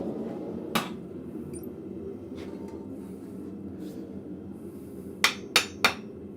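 A hammer striking steel in a blacksmith shop: a single sharp ringing blow, then a quick run of three loud metallic strikes, over a steady low background hum.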